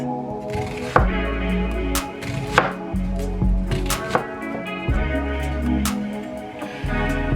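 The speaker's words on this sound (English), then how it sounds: "I'm going to slice it up into medium-sized slices" A knife slicing through an onion on a cutting board, with a series of sharp, close chops and board knocks in an uneven rhythm, each cut followed by a brief crunch, heard without talking.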